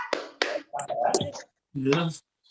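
A classroom group claps twice, two sharp close claps up front, followed by students talking and murmuring.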